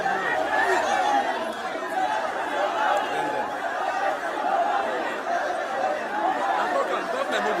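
Street protest crowd in Nigeria during the Days of Rage demonstrations, a constant murmur of many voices talking over one another, with scattered laughs and chuckles, moderately close and continuous.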